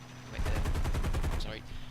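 A rapid burst of .50-caliber machine-gun fire in War Thunder, evenly spaced shots rattling for about a second, followed by a brief whistling tone, with game-like background hum.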